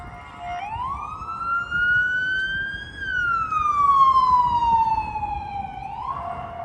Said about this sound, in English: Ooh, an undercover cop car.